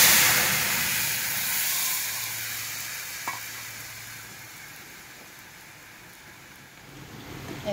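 Kofta balls frying in hot oil in a wok, a steady close bubbling sizzle that holds throughout, with one brief clink midway and no talking.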